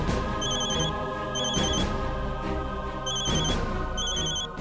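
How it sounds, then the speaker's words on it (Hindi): A telephone rings steadily in repeated trilling bursts, loud and close, over a dense musical background. "आनंद का फोन उठाइए ना"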